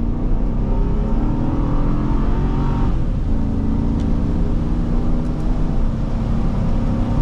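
2005 Chevrolet Suburban 1500 accelerating hard from 0 to 60 on a wet road, heard from inside as a steady, loud engine drone rising gradually in pitch, with no talk.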